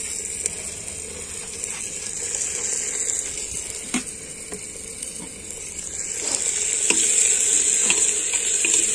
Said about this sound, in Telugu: పచ్చి వాసన కొంచెం పోయేదాకా వేయించుకుందాము